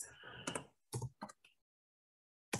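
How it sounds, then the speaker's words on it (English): A few scattered keystrokes on a computer keyboard, typing a search into a design app, heard as brief clicks separated by silence, close but fairly quiet. "Let me go to photos and type in pants."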